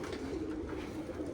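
Soft, continuous cooing from a group of Jamuni pigeons, a brief low burbling hum with no speech over it.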